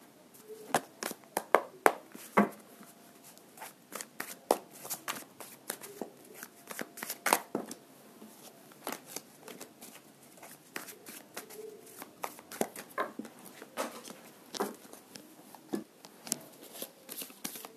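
Tarot cards are shuffled by hand during a romantic timing reading, producing soft, irregular riffles, flicks and slaps at close range, fairly quiet, with no steady rhythm.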